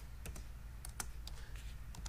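Fingers type on a computer keyboard in a quick, uneven run of close key clicks over a low background hum.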